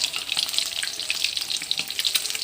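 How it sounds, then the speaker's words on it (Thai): Fresh fish caught from a canal beside the house sizzles in hot oil, a steady close crackle and spatter that runs unbroken with no talking. "ตอนสดๆจาก คลองข้างบ้าน เราก็จะทอด"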